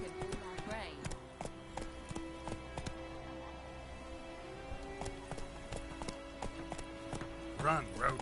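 Roach the horse galloping in The Witcher 3 video game, rapid hoofbeats clip-clopping steadily with a snort near the end, layered under game music and voices.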